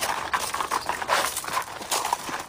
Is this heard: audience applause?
no